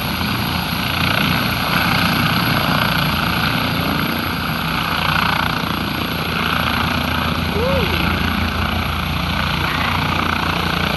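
A helicopter lifts off in a park, its loud, steady rotor and turbine roar filling the air nearby with constant wash and downdraft noise, while a voice speaks briefly over it.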